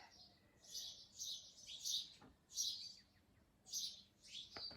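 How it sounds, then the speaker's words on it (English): Birds chirp in a tree outdoors in spring, giving repeated bright bursts of tweets in irregular bunches, fairly faint and a little distant, with no one talking. "It is spring here, so we've got a lot of birds."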